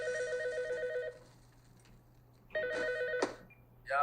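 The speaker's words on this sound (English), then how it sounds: "Pick up the phone." A telephone rings in two electronic bursts, one near the start and one midway, with a quiet gap between them and no talk over the rings.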